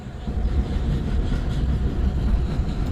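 A train in the mobile game Indian Bike Driving 3D gives off a steady, loud low rumble that fills the whole stretch with no distinct breaks, and no voices are heard over it.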